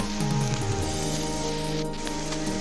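A cicada buzzes steadily through a dense hiss of falling rain in a jungle during the wet season. Rain and insect drone blend into one continuous wash with a low hum underneath.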